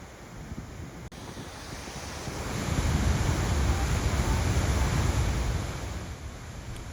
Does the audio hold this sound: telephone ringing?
no